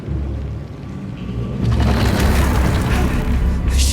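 A deep booming explosion as a canister is blown up in the video game Atomic Heart, a sustained heavy rumble swelling up and rolling on loudly.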